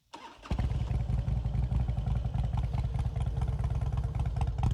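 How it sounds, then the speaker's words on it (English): A 2004 Harley-Davidson Road King Classic engine with true dual exhaust cranks and fires up, then settles into a loud, lumpy, rhythmic idle with a deep throbbing exhaust. "Let's fire this up."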